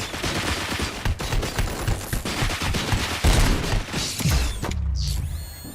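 Dense gunfire from the RoboCop: Rogue City video game, continuous rattling bursts and mechanical clanks across several seconds, loud and close, ending with a metallic ringing whine.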